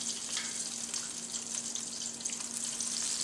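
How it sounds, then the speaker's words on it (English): Vegan gluten chicken patty frying in vegetable oil, giving a soft, continuous crackling sizzle with a faint steady hum beneath, no talking. "Now you want to keep frying until the chicken is golden brown."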